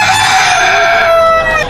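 A rooster crows once, loud and close, its single drawn-out call tapering off at the end.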